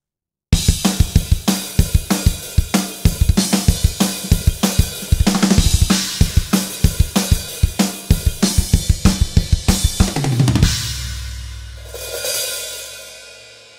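A drum kit arrangement from the Mixosaurus sample library, with steady, punchy kick, snare and cymbal hits in a driving rhythm for about ten seconds, then a final crash that rings out and fades.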